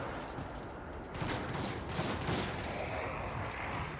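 Gunfire in the Warhammer 40k: Rogue Trader video game: a dense, rumbling barrage of heavy shots and booming blasts, loud and continuous, with sharper cracks landing after a brief quieter opening.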